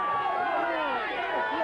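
A studio audience at a New Year breakfast TV show cheers and calls out: a loud, close, continuous mass of many overlapping voices that keeps going without a break.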